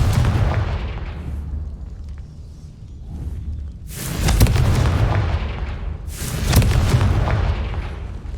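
Confringo spell blasts in the Hogwarts Legacy video game: two loud, booming fiery explosions a few seconds apart, each with a crackling roar that trails off over rumbling background noise.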